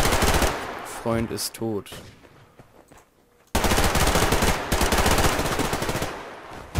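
Rapid gunfire from a weapon in the online shooter Survarium, loud bursts of shots before a pause and then a long sustained volley, with someone talking briefly between them.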